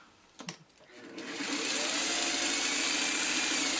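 A sewing machine starts up and runs at a steady, fast, continuous whir while stitching string quilt blocks, following a few brief clicks and handling noises, close and fairly loud.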